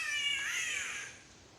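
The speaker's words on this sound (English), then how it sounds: "Sounds so much like a cat, doesn't it, those catbirds?" A catbird gives a single drawn-out, wavering mew very like a cat, loud and close, fading away in the riverside forest near the Barron River.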